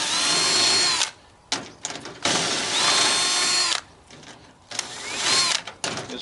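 A power drill whines loudly in several bursts, backing screws out of sheet aluminum salvaged from a scrapped travel trailer, each run rising in pitch with short quiet gaps between, close and without talking.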